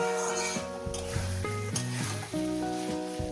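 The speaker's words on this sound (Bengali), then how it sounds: "মিনিমাম দু মিনিট কষিয়ে নেবো শাকটাকে" Spinach sautés in a hot pan, sizzling steadily as a utensil stirs and scrapes through it in short strokes, close and clear without voices.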